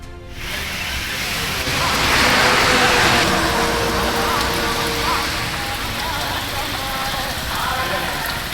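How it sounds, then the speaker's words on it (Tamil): Heavy rain pours steadily across Tamil Nadu towns such as Theni, Uthamapalayam, Nellai and Ambasamudram, a dense continuous hiss that swells slightly midway, with faint voices underneath. "தேனி, உத்தமபாளையம், நெல்லை, அம்பாசமுத்திரத்தில் வெளுத்து வாங்கிய கனமழை."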